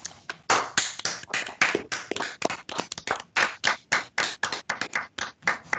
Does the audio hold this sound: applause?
yes